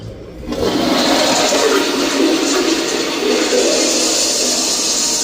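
A steel jail-cell toilet flushes with a sudden, loud rush of water that holds steady for several seconds, close and without speech.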